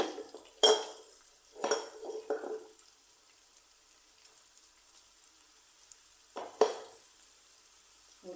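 Onions are sautéed in a pan for a barracuda fish gravy, with a few short bursts of stirring and scraping separated by long quiet gaps.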